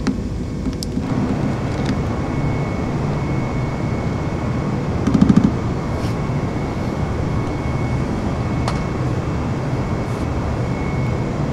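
Airbus jet engines at full takeoff throttle in a flight simulator, a steady, loud, broad roar holding constant throughout with a faint high tone and a brief click partway, no voices.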